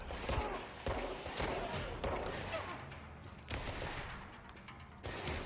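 Gunfire in the Control video game: repeated loud bursts of automatic shooting, sharp onsets roughly every second over a constant rumbling game background, fairly close and dominant.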